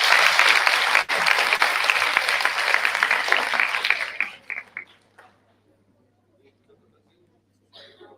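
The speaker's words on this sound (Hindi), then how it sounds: "एक बार खुद के लिए जोरदार ताली बजाइए" Loud, dense applause from an event audience at an environment and menstrual hygiene day gathering, lasting about four seconds before it thins into a few scattered claps and falls silent. A brief voice returns at the very end.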